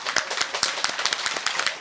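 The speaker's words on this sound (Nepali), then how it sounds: "जोरदार ताली" An audience applauds loudly at a televised children's talent show, with dense, rapid claps sustained throughout and no talking.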